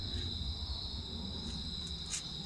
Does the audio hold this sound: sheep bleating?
no